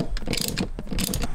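A ratchet working T50 Torx bolts inside a BMW F30 interior, giving a quick run of sharp, close clicking pulls in brief bursts.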